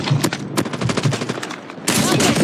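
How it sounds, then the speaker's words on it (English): Rapid automatic fire from a deployed sentry gun in Call of Duty Mobile, a close, loud rattling burst of shots that builds to denser firing at the end. "Sentry gun deployed."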